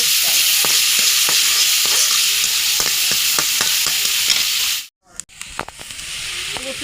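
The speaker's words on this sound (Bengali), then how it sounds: "পেঁয়াজটা লাল লাল করে ভাজা হয়ে গেছে" Onions frying in oil in a karahi, a loud continuous close-up sizzle with repeated stirring clicks, briefly cut off near the end before the hiss and scraping resume.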